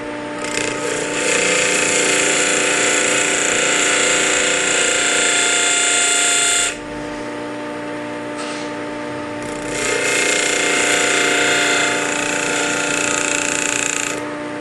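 Work Sharp 2000KN grinder grinding the edge of a tool such as a cold chisel, a loud steady whirring grind with a strong motor tone, pausing briefly midway before resuming for several more seconds.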